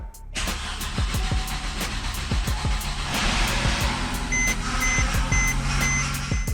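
A reassembled Mercedes engine on a $1,200 mechanic-special car cranks and starts, with rapid repeated starter chugs giving way to a steady close running note while electronic beeps repeat near the end.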